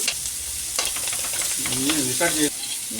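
Toor dal, onions and garlic frying in a pan while being stirred, a loud continuous close sizzle with scraping stir strokes, and a voice heard briefly partway through.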